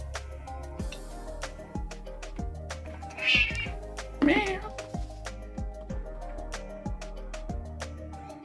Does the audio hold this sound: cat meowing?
yes